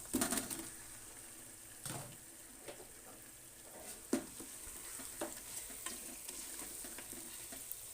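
Half a kilo of goat meat frying and being stirred in cooked masala for a spinach curry, with a faint steady sizzle broken by several soft clatters of a spoon against the pan, no voices.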